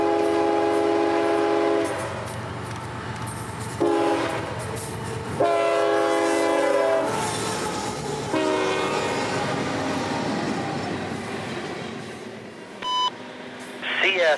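CSX freight train B631 rolling southbound on the Seaboard main line, sounding a loud, sustained multi-tone horn in several long blasts over the steady rumble of passing cars, with a brief beeping tone near the end.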